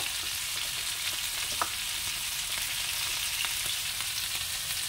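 Spices with chili, turmeric and ginger paste sautéing in a pan: a steady, close sizzle of frying with faint stirring scrapes, no voices.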